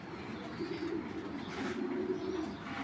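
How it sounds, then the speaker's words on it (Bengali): Racing pigeons of the BRPO club cooing softly nearby, low repeated throaty coos over a faint room hush. "বিআরপিও ক্লাবের কবুতর"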